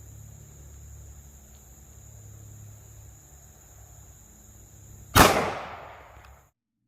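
A single sharp, loud shot from a Smith & Wesson Shield pistol firing a Federal 9mm hollow point round at a chronograph, with a brief decaying echo after a quiet lead-in.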